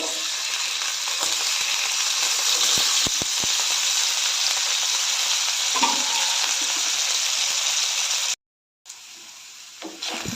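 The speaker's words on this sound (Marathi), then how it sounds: "आता ह्यामध्ये आपण बटाटे एकदम पातळ असे चिरून घेतलेले आहेत ते फ्राय करून घेऊया" Thin-sliced potatoes fry in hot oil in a pan, a steady dense sizzle with occasional stirring clicks, briefly cutting out near the end before resuming more quietly.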